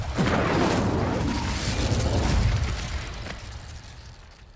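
Incendio fire spell cast in Hogwarts Legacy, a loud whooshing roar of flame that bursts at once and sustains for several seconds before gradually dying away, with no talking over it.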